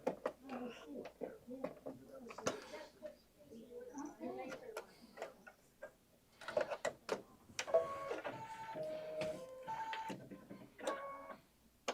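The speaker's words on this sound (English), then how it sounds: "it's going to do a placement stitch directly on that little background quilting" Kimberbell embroidery machine stitching a placement line on linen, a rapid mechanical ticking that runs in bursts and joins a steady tonal whir in the second half, with a person talking over the first part.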